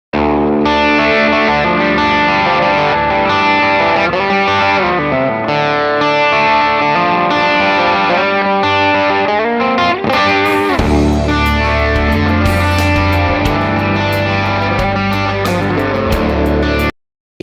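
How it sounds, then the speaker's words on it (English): An electric guitar runs through a Fractal Audio AM4 effects unit, with dense distorted, chorus-laden chords and riffs playing continuously and loudly, then a heavier low section before stopping abruptly. "So I know a lot of you want to actually hear what it sounds like"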